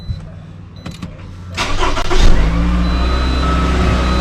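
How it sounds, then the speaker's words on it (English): A 2010 Toyota RAV4 with a 2.5-liter engine cranks briefly, then catches and roars to life before settling into a loud, steady idle close by. "So I'm going to start up the engine."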